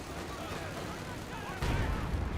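A satchel charge blows up in the WWII strategy game Company of Heroes 2, a broad low-frequency blast that rises about midway over continuous battlefield gunfire and rumble.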